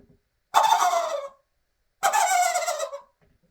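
Two loud turkey gobbles imitated by a person on a diaphragm turkey call with hands cupped over the mouth, each rattling burst lasting under a second, separated by a short silence, close and clear with no talking.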